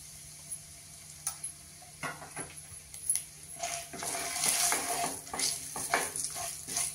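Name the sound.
bay leaves and spices frying in oil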